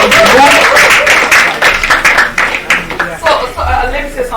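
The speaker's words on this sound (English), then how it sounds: "a round of applause for this amazing people" An audience claps in loud, dense applause at a seminar, filling the room continuously with overlapping hand claps and cheers, tapering slightly toward the end.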